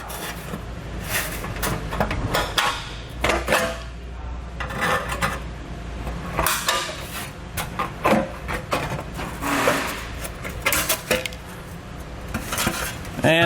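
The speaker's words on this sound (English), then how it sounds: "we're going to cut this out with snips as well." Tin snips cutting through a thin metal heat shield under a 2017 Subaru Forester during a trailer hitch install, continuous close crunching and rasping metal bites in an uneven rhythm, loud and without speech.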